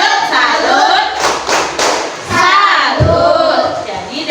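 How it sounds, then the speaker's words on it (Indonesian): A classroom of pupils performs a rhythmic 'tepuk salut' clap routine during a coding lesson, bursts of close, loud hand claps mixed with children's voices chanting along. "Nah, tepuk salut dulu untuk Habibi."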